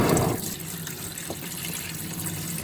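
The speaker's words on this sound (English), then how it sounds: "Ooh, look at that straight water." Water gushes out of a flooded 2020 Can-Am XMR 850 side-by-side, a loud splash at first that settles into a steady, close, hissing pour.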